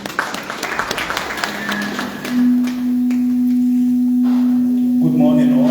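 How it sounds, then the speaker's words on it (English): An audience at a learning and adaptation workshop in Kaduna state claps in a brief scattered burst that fades within about two seconds. A steady, piercing electronic feedback tone then rings on alone. "Let's clap for him, please."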